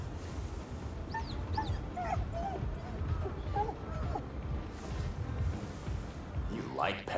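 A dog in the video game Ghostwire Tokyo whimpers and gives small high yips several times, with player talk running over most of it.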